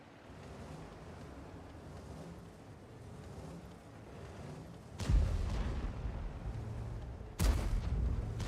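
A tank fires high-explosive shells in World of Tanks, two heavy booming shots some seconds apart over a steady rumbling engine background, close and loud.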